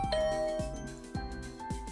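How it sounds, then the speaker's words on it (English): A doorbell chimes with a few ringing electronic tones, each struck note sustaining and overlapping the next in a bright, close ding-dong pattern, with no talking. "I rang the doorbell."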